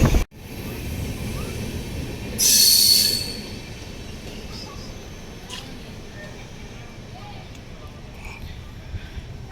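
A loud, high metallic squeal of train wheels rises for about a second amid steady rumbling rail noise, then fades back into the background, at Gooty railway station in India.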